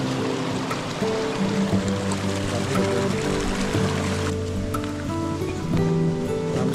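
Water flows and collects in a catchment at a spring source that feeds a village tap in Mathichaur, with a steady, continuous rushing wash throughout.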